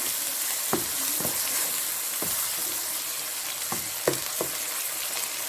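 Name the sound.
stirring and frying beef achari gosht in a pan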